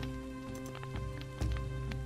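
Rain falls steadily in the survival video game Soulmask, a soft, continuous patter of drops with a few louder splashes over a low background hum.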